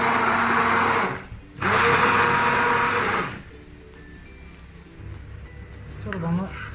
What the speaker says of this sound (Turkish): Şimdi blender'a vuruyorum.